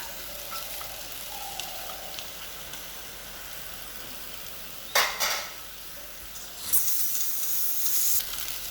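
Vegetable stalks frying in a pan for Bengali shukto, giving a soft continuous sizzle with a couple of louder hissing bursts partway through as they hit or are stirred in the hot oil.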